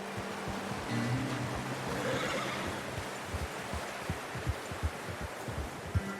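A horse in the Red Dead Redemption 2 video game gives a loud whinny early on, followed by the steady clip-clop of hooves over a background of outdoor ambience.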